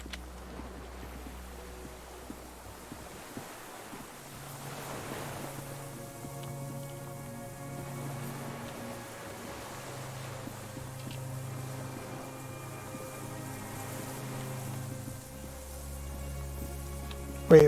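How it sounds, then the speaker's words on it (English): Distant cargo ship signal horns echo over water in the Disco Elysium game, long low tones droning faintly beneath wind and lapping waves across a quiet harbour ambience. "Distant sound of cargo ships. Signal horns echo on the water."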